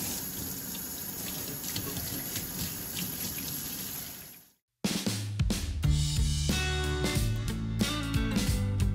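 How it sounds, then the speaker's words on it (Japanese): Hands are rinsed under a running tap in a cooking-school kitchen: a steady, close rush of water for about four seconds, which then cuts off and gives way to music. "まず最初に手を水でゆすぎます"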